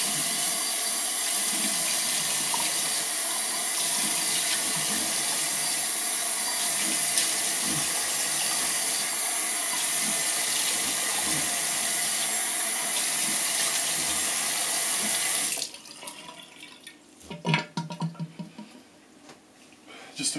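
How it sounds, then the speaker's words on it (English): A bathroom tap runs for a cold water rinse after shaving with a Gillette Tech razor, a steady loud hiss of flowing water that cuts off near the end, followed by faint splashes and handling noises. "Just a cold water rinse there."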